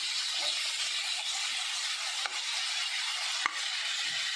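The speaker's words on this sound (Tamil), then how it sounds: "இது வந்து பெரிய வெங்காயம் போட்டு ஒரு பெரிய வெங்காயம் வதக்கட்டும்" A large onion sautés in a pan for fish curry, giving a steady, fairly loud sizzle that runs the whole time, with a couple of sharp spoon knocks against the pan and no voices.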